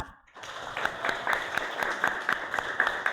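A small group of teachers in a classroom presentation applauds steadily for a few seconds after a brief quiet moment, clapping fairly close and even.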